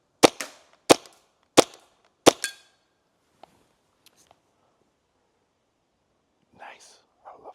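A T4E TC68 marker fires on single shot, four sharp loud cracks about two-thirds of a second apart, followed by quiet with faint murmured voices.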